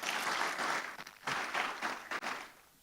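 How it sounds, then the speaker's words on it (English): Audience applause for a speaker at a climate investment summit, a dense, steady wash of many hands clapping that swells and dips briefly before trailing off, with no voices over it. "One more round of applause for her, please."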